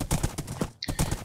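Quick clip-clop of fast horse hooves landing in Minecraft, a brisk series of near hoof thuds in two bursts split by a short gap with a soft chime-like tone between them.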